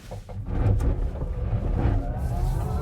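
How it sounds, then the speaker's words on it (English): A Microlino electric bubble car pulls away hard with a brief wheel spin, its electric motor whining upward in pitch over road rumble, close and moderately loud. "Got a bit of wheel spin there."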